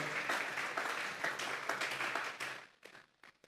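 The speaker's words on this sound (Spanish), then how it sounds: "Denle esa ofrenda de palmas a Dios en esta hora" A church congregation applauding during a Sunday service, with dense sustained clapping that holds steady and then breaks into a few scattered claps near the end.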